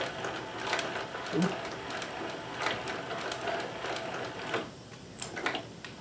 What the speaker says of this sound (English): once you get going, the gears are quite noisy actually